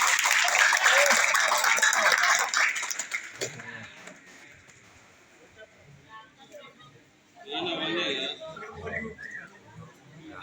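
Audience applause at a school Ramadan Islamic study session, a dense burst of clapping for the first few seconds that fades out, then quieter talk and a second smaller round of noise.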